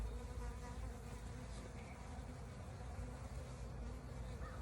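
Honeybees drone in a dense, continuous buzz around an open hive frame during nest expansion, close and moderately loud with no voices.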